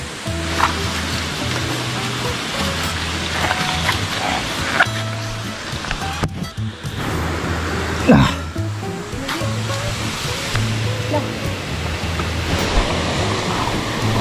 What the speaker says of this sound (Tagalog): Yung falls ng sarap maligo.